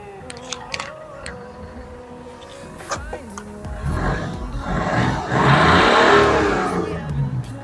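A 2012 Chevrolet Beat LT diesel engine revs up from idle, the roar building over several seconds and holding loud near the end, with a few faint clicks early on.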